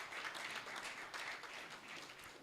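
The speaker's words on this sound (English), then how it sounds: "Please, can you give her a round of applause?" Audience at a Rotary advocacy workshop applauds with a steady patter of hand claps, quiet and distant, lasting a couple of seconds.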